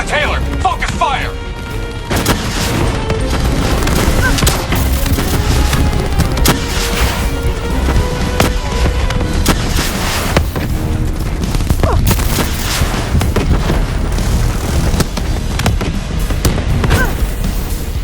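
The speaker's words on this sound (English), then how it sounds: "Explosive spikes incoming!" Explosive spikes detonating in Call of Duty Black Ops 3, mission Demon Within: a dense, loud barrage of blasts and gunfire with game voices shouting over the continuous battle noise.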